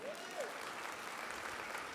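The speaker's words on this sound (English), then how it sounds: "clap your hands on that one" A church congregation claps together in steady, dense applause that fills the sanctuary, with a few voices rising briefly above the clapping.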